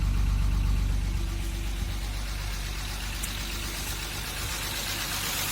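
A BMW M50B25 inline-six idling on a cold morning with some condensation in the exhaust, a steady low rumble close to the engine that holds even throughout with no talking.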